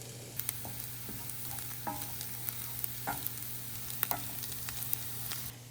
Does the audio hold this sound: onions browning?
yes